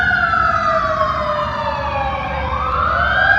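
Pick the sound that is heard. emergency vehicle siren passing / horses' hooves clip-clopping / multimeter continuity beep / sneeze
emergency vehicle siren passing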